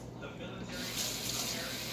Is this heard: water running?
yes